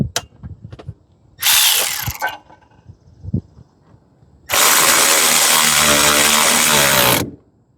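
A car battery terminal clamp is tightened with a powered tool in two loud mechanical bursts: a short buzz, then a longer, steady whirring run after a pause with light handling noises. No talking.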